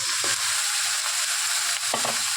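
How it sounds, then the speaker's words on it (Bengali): Meat tipped into hot oil with onions in a kadai, a loud steady sizzle filling the whole moment, with a couple of brief scraping stirs, close by and without talk. "এবার আমি মাংসটা ঢেলে দিলাম"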